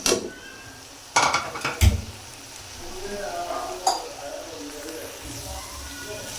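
Onions added to a pan with carrots and bell pepper, stirred and starting to fry, with a few sharp clinks of utensil on metal and a soft sizzle underneath, while a voice talks nearby.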